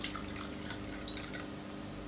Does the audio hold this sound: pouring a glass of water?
yes